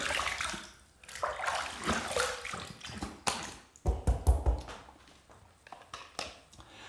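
A travel shave bowl is rinsed under a running tap, with water splashing and trickling in uneven bursts, loudest in a short heavy gush toward the middle before easing off.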